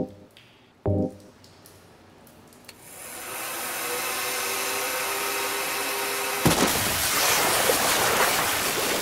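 A hair dryer in the Silent Hill 3 video game switches on after a few clicks and knocks, building into a loud, steady whooshing roar that jumps to a harsher, stronger blast and holds.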